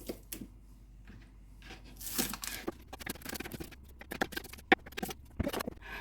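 Green onion is chopped on a board in a home kitchen, a quick irregular run of crisp knife taps and rustles, close and soft.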